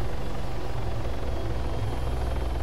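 Close, loud helicopter rotor beating in a fast, steady low thump over a constant engine hum, from a military transport in a tactical combat game, with nothing else heard.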